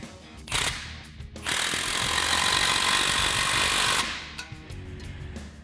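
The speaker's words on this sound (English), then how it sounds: "we'll just take our 15mm socket to tighten down this clamp" A power tool with a 15mm socket tightens an exhaust clamp on a Ford F-150 Roush single exhaust system: a short burst, then a loud, steady buzzing whir for about three seconds close by, followed by quieter clanks.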